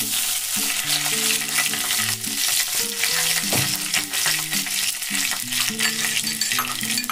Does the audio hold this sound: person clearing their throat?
no